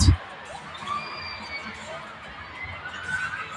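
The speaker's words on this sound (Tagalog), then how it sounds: "you can feel the energy from this electrifying crowd here in Loreto" Basketball crowd cheering and chattering in a packed gym in Loreto during a commercial league game, a steady broad roar with a brief loud burst at the start and swells near the end.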